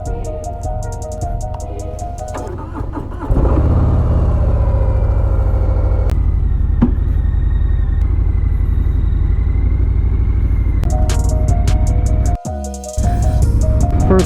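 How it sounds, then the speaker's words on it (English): Harley-Davidson Breakout cruiser motorcycle being ridden, its engine a loud, close, steady rumble that rises sharply after a few seconds and drones on, briefly dipping near the end before resuming. "Trying out the Breakout here. It's the first time I'm gonna ride a Harley"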